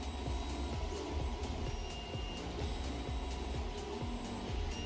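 Nearby printers run on without pause, a dense mechanical hum and whir with faint repeating ticks, fairly loud and steady throughout.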